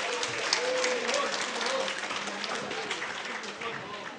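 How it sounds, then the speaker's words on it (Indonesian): A crowd claps steadily for a nominee announced at an evening campus alumni event. The applause is dense and continuous throughout, with a voice faintly audible over it. "Tepuk tangan."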